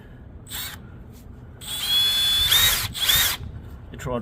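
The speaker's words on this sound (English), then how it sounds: "It tried to wind itself in with the really little drill bit." A small drill with a very small bit whines into a KTM motorcycle oil filter cover bolt in a couple of high-pitched bursts, one long and one shorter, then stops.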